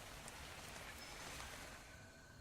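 Steady rain pours in the video game I. R. Wizzard, a dense, even hiss of falling drops with faint patters on top, constant throughout with no talking.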